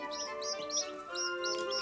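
A voice imitates a newly hatched chick cheeping in a children's story, with a quick run of high, bright chirps repeated steadily over a sustained musical backing.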